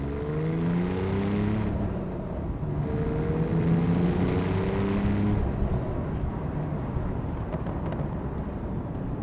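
A manual Porsche 911 GTS engine drones loudly from inside the cabin on a test drive, its pitch climbing, then dropping with each quick gear change, then climbing again, in a steady close roar with no talk.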